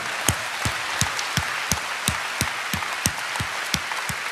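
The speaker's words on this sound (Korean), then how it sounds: "우리 주님께 영광의 박수 올려드립니다" Rhythmic unison clapping from a church congregation in praise, a steady beat of sharp claps at roughly three per second, close and even, continuing throughout with no voices.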